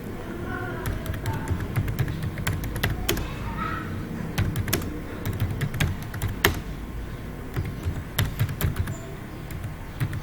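Typing on a computer keyboard in Microsoft Word, a steady patter of close, crisp key clicks in irregular bursts over about ten seconds, with no talking.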